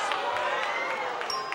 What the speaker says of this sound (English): They don't like anything I say, do they? Stop booing?